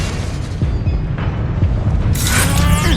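Expelliarmus disarming spell cast in the Hogwarts Legacy video game, a booming magical burst over rumbling combat noise, swelling into a bright shimmering flare near the end, loud and close.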